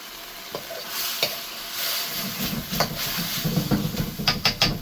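Curry stirred briskly in a hot pan over high heat, a steady loud sizzle broken by scraping spoon strokes that grow busier and more rhythmic toward the end.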